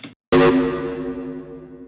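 A loud synthesized tone bursts in after a brief pause, gritty and distorted with a rich harmonic buzz, then trails off into a long reverberant decay.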